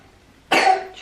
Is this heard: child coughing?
yes